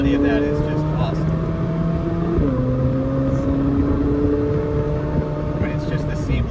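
A McLaren 750S with a 4.0-litre twin-turbo V8 accelerates hard, its engine note climbing steadily and then dropping sharply at a quick, seamless gear shift before rising again, with people talking over the cabin noise.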